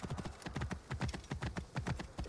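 Horse hooves clip-clop in steady quick rhythm as a horse is ridden in Assassin's Creed Origins, close and distinct with no talking over them.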